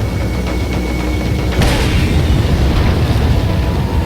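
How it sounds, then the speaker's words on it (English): A grenade going off in Resident Evil 4, a single muffled boom bursting about midway through and spreading into a rumbling tail over constant game background noise. "We're gonna throw a grenade here."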